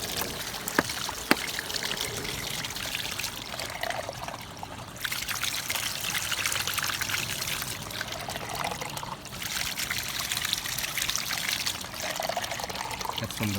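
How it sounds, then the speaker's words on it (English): Pond water is poured from a container onto onion kitchen scraps planted in garden soil, a soft steady trickle and splash running throughout at close range, with no talk. "Planted there. Let's go ahead and water it."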